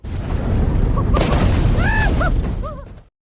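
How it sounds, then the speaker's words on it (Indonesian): A car bomb explodes in the film A Man of Reason, a loud, sustained blast with rushing debris and whooshing that fills about three seconds before cutting off abruptly. "Mobil yang ditunggangi Sohyuk ternyata sudah dipasang bom."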